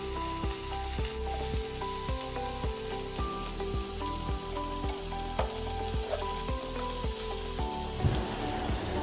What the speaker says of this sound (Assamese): এনেদৰে হাই ফ্লেমতে মই ভালদৰে মাংসখিনি ভাজি ল'ম